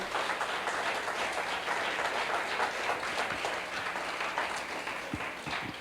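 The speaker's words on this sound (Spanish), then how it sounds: "denle ese aplauso fuerte" Congregation applause during a church service, a steady dense wash of clapping that stays loud and even across the whole stretch, with no talking over it.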